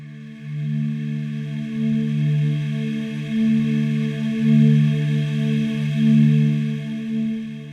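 A sustained Omnisphere synthesizer pad using the Fairlight Anklervox sample, with a low, breathy choral tone, swells gently and evenly throughout, playing alone.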